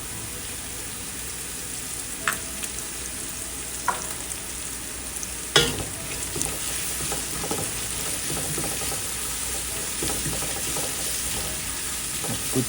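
Onions frying in a pan with salt for a chicken dum biryani, a steady soft sizzle running throughout with a few sharp clicks and a louder knock of a utensil partway through.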